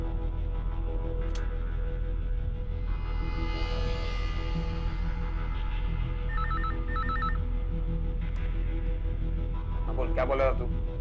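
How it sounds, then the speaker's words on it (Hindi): A telephone rings in a tense CID crime drama scene, its repeating electronic trill standing out over a steady background hum with voices nearby. "तुम मेरे को फिर से फोन कर यार शमशेर।"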